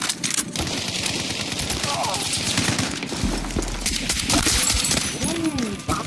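Rapid gunfire in Battlefield 6 on an icy map, with dense bursts of automatic shots and heavy blasts crowding the whole stretch while players talk over it.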